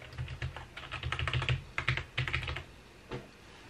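Fast, uneven bursts of typing on a computer keyboard, close and clear, with keys clattering in quick clusters and brief pauses between them.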